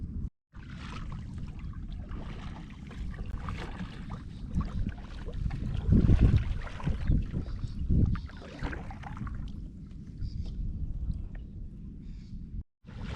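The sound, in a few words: kayak being paddled on water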